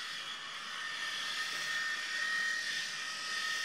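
A Kaufland electric hair clipper buzzes steadily as it cuts hair on a person's own head, a close, continuous high whine with no talking.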